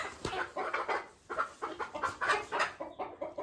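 Desi village chickens kept inside a poultry shed cluck in a rapid, uneven run of close, moderately loud calls, with no speech over them.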